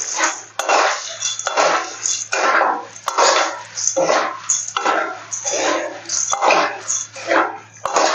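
A spoon scrapes and clinks steadily against a metal pan as puffed rice (mamra) is stirred with red chilli and spices, the rhythmic clatter close and bright, mixed with a spoken voice.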